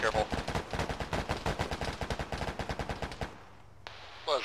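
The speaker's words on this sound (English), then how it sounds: "Green, we're taking fire from our south, southeast." Rapid bursts of gunfire in the tactical shooter Arma during a ShackTac multiplayer session, loud and close, firing in a fast steady rhythm for about three seconds before stopping, with a brief crackle of more shots near the end.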